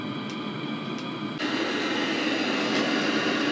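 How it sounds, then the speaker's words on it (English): A 5 kW Webasto diesel heater running steadily nearby, a continuous roaring, rushing drone that grows slightly louder partway through and carries on without talk. "hopefully you can hear the Webasto thundering away in the background, all little 5 kilowatts of itself"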